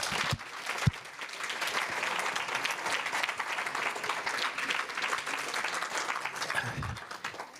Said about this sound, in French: je vous demande de bien vouloir l'applaudir.